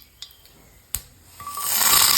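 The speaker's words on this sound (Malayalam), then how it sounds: "കടുക് പൊട്ടിക്കാം." Mustard seeds go into hot oil while a papaya stir-fry is being cooked: a few sharp ticks and pops, then a rising sizzle and crackle that grows louder toward the end.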